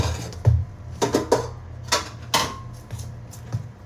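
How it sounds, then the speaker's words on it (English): Chunks of potato and carrot drop into a beef stew pot as a scatter of quick, close clunks and knocks in small clusters, with a low hum behind them and no talking. "we have our taters and carrots. I'm just going to dump them in there."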